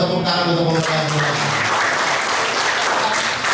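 Congregation applauding at a Catholic Mass and adoration gathering, dense sustained clapping that fills the room, preceded by a brief tonal sung or spoken phrase fading out at the start.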